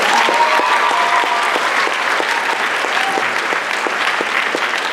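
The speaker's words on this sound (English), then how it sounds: "Please give her a round of applause for this." An audience at a senior awards ceremony applauds steadily in a large room, a dense continuous clapping that stays loud and unbroken for several seconds.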